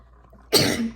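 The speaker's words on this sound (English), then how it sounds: "Oh, I gotta sneeze." A single sharp, breathy sneeze bursts out after a moment of near silence, close and loud, trailing off quickly.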